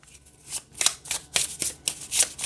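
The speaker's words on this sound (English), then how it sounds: "it shuffles fine this way as well." A deck of cards being shuffled, a few quick riffling bursts close up, with soft handling noises between them.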